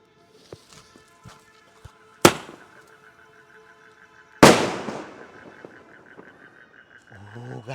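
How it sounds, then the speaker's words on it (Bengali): Diwali firework shells burst with two sharp, loud explosive cracks a couple of seconds apart, each trailing into a crackling decay, with small pops and faint background noise between them. "সেলটা হেভি ফাটলো"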